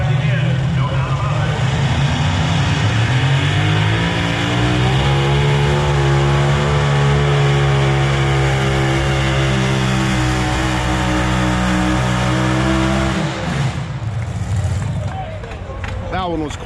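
Multi-engine race tractors at a tractor pull, an overwhelming continuous engine roar with rising and falling pitch, sustained loud and close for most of the stretch before easing off near the end.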